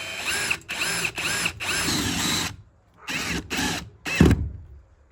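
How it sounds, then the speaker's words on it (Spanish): A power drill drives self-tapping screws into a sandwich roof panel in several whirring bursts of about half a second to a second, with short pauses between them and a sharp clunk near the end, loud and close. "seguidamente le colocamos los tornillos o remaches de fijación por debajo"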